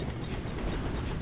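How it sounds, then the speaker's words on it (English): A train in the Poppy Playtime video game rumbles steadily along the track, a dense, continuous rolling noise with no pauses and no voices over it. "And then the train takes off."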